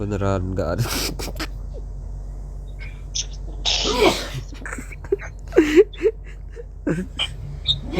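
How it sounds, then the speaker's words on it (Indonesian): A sharp human sneeze, one of several quick bursts among breathy gasps and whimpers, close and loud, with people talking around it in a school setting at night. "nanti ada suara bersin."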